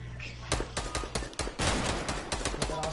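Rapid bursts of video game gunfire aimed at an opponent, a dense string of sharp, loud shots fired in quick irregular volleys with barely a pause.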